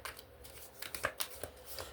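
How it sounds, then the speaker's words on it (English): Tarot cards being shuffled by hand, a close, soft series of riffling snaps and papery flicks that come in quick uneven bursts without any talking. "Let's shuffle a little bit."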